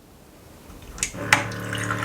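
An automatic mouthwash dispenser pouring a 30 ml dose into a cup, a faint whir followed by a steady trickle of liquid that gradually rises, close and fairly quiet.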